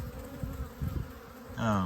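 A honeybee buzzes close by at a beehive being fed winter fondant, a short, distinct drone that swells near the end.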